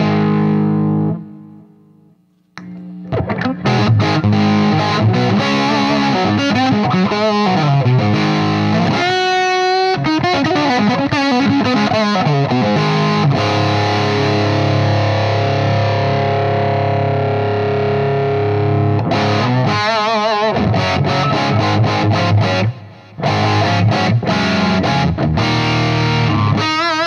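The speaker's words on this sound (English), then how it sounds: "let's go with something that's a little bit more gained up now, using the Fat Larry as a boost" An electric guitar plays a gained-up, distorted tone through a Fat Larry overdrive pedal used as a boost. Sustained chords and riffs ring loud and continuous for most of the stretch, with brief pauses near the start and the end.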